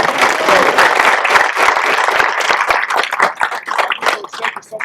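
An audience applauds at a Rams 'Cleats For Character' school event: dense, loud clapping fills the first few seconds, then thins into a looser patter of individual claps as it winds down.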